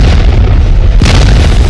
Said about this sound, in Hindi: अमेरिका की वायुसेना ने बड़े धमाके किए